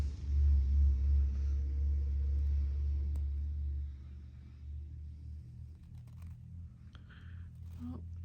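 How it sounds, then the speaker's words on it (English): Low, steady rumble of road traffic passing nearby, strongest at first and easing a little, with faint scattered clicks over the top. "Sorry about all the traffic noise."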